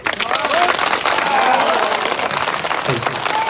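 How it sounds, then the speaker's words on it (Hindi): A political rally crowd applauding loudly, a dense, steady wash of clapping filling the whole stretch, with cheering voices and shouts mixed in over it. "ताली बजाओ जोर से"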